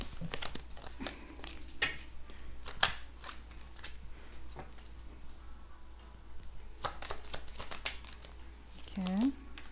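Tarot cards being shuffled and handled, with papery crinkles, flicks and sharp snaps scattered across the clip, close and moderately loud, while someone speaks French now and then.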